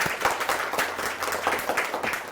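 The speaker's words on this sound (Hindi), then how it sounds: "ताली बजानी बनती है" Students in a lecture hall break into applause, a steady brisk patter of many hands clapping that holds evenly for a couple of seconds.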